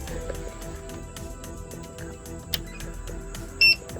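A power inverter gives a short, high electronic beep once near the end as it turns on, over a steady background hum with faint clicking.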